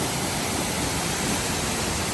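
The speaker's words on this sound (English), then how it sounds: "Waterfall, guys." A waterfall roaring as a continuous, loud broadband rush of falling water, steady and close with no breaks.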